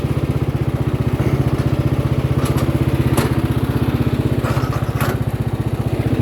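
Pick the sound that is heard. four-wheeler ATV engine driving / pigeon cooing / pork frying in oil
four-wheeler ATV engine driving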